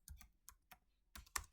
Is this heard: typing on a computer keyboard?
yes